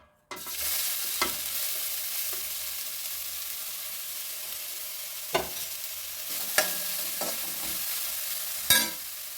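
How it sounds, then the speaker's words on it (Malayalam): Sliced bitter gourd dropped into hot coconut oil starts a loud, constant frying hiss, broken by occasional spatula scrapes and clacks against the pan. "ഇനി നമുക്കിത് ഇതിലിട്ട് വറുത്ത് കോരിയെടുക്കാം"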